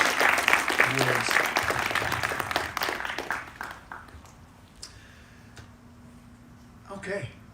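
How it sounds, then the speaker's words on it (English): A graduation ceremony audience gives a round of applause that starts full and close, then thins out and fades over a few seconds, leaving scattered claps and room noise. "Another round of applause for Ava for those sage words."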